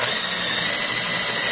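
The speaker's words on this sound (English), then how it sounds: "While I'm drilling, I just keep trying to keep the drill parallel to the other hole." A power drill bores a hole through a DR200 motorcycle frame, giving a steady, loud whirring grind that holds without pause for the whole moment.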